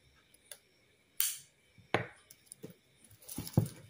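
Scissors snip through rope during fruit basket making, a few sharp dry cuts close up with pauses between them, and no talking.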